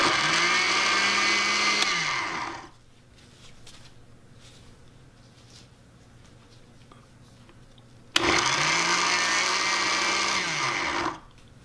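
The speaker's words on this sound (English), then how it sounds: "The first speed is puree, so I'm just going to puree." A blender purees pepper sauce in two loud bursts: it whirs at high speed for about two seconds, then spins down into a quiet pause, then starts abruptly and runs for about three more seconds before winding down again.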